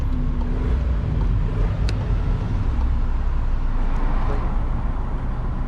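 Engine of a 2019 Volkswagen Crafter van idling steadily after starting, a close, constant low rumble with no talk.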